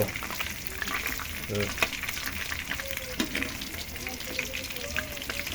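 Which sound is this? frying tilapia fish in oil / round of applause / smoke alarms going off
frying tilapia fish in oil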